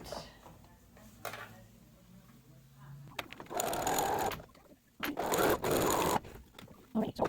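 Sewing machine stitching the seam of a fabric slipper, running in loud bursts of rapid whirring separated by short pauses, after a quieter stretch with a low hum.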